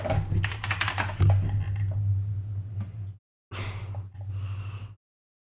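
Computer keyboard typing and mouse clicks at a PC while reopening Discord: a close, fast clatter of keys that settles into steady tapping, breaks off briefly and resumes, with some breathing audible.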